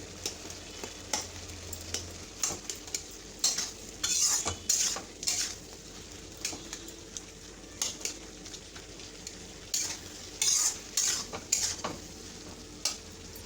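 Bitter gourd and potato get stirred in a pan, with soft frying sizzle under repeated metallic scrapes and clinks of a utensil against the pan in irregular bursts, close and moderately quiet, no voices.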